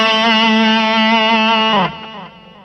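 A sustained distorted electric guitar note played through the delay effect of a ZOOM G1 FOUR multi-effects unit rings loudly and steadily, then cuts off, leaving fading repeats and a short tail.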